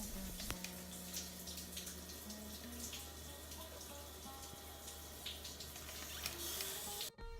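Running shower in a cheap hotel bathroom, a steady hiss of spraying water joined by shifting tonal hums and whines from the plumbing, close and continuous until it cuts off near the end.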